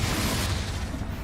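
Spell-fire explosion from the Confringo curse in the Hogwarts Legacy video game, a continuous dense rumbling blast with heavy low-end boom and crackle filling the whole moment, loud and close, with no talking.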